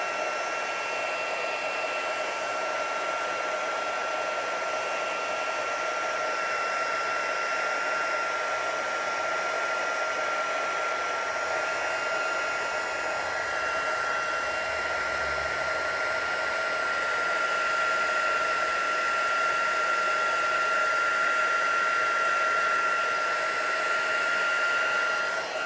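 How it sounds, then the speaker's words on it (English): An embossing heat tool blows hot air in a long, steady whoosh with a faint motor whine, close and continuous, growing slightly louder toward the end. "Once your heat tool is warmed up, it will do the job faster."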